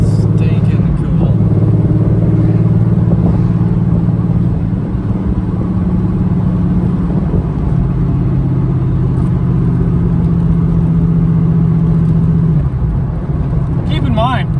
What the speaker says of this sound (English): What you're hearing is a V6, and you could have had this with a V8.